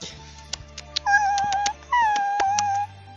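A small dog yips and whimpers in a short, excited burst of several high barks with whiny tones, close and clear, set against soft background music in an animated Spanish-language cartoon episode.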